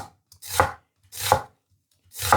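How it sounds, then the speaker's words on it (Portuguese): An onion is sliced on a manual vegetable slicer in three evenly spaced, crisp strokes, close up, with silence between them and no talking. "Aqui o único trabalho é cortar a cebola"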